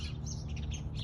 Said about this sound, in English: All the bird noise is coming from over the fence.